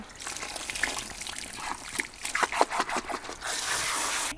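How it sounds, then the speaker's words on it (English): Water from a salon hose runs through hair during a shampoo rinse, a steady close trickling and splashing with uneven bursts as hands work the lather, swelling into a fuller gush near the end. "I'll use the right hand to hold the water hose and the left hand to agitate the hair to remove the product, the shampoo, out of the hair"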